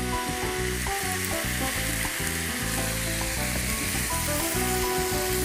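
Dried cabbage and marbled pork stir-frying in a pan, a loud continuous sizzle with stirring scrapes throughout, while music plays underneath.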